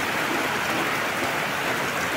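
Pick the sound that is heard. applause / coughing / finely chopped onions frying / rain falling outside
rain falling outside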